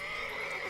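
Brief horse whinny in The Witcher 3 video game, a short tonal neigh over steady background game ambience.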